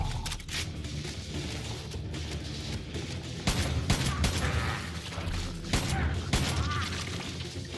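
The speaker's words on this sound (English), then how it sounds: "I don't even know what gun this is. The Spaz 12." Spaz 12 shotgun fired repeatedly in Far Cry 5, loud booming blasts in an irregular rhythm over dense game noise and action, with a voice talking faintly underneath.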